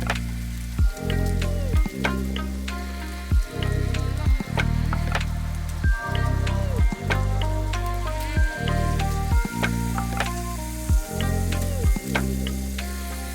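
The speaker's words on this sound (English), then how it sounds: "Stir the eggs in the pan until they are fully set." Eggs frying in butter in a non-stick pan, giving a steady close sizzle throughout with a few louder pops and spatters.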